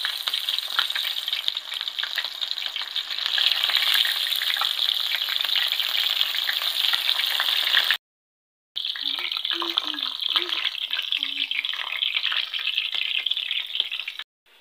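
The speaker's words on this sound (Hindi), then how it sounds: "इसे हम इस तरह से डाल के फ्राई कर लेंगे।" Keema-stuffed bitter gourds (karela) fry in hot oil, a steady loud sizzle and crackle close by, broken by a brief silent gap before the frying resumes.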